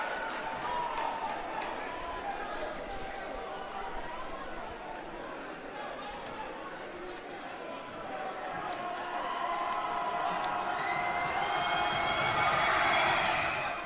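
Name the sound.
crowd noise at high school basketball game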